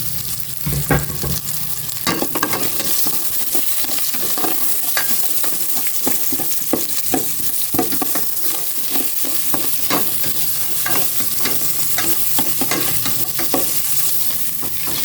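Onions stir-fry in a hot pan with a steady, close sizzle and repeated scraping stirs throughout, with no talking.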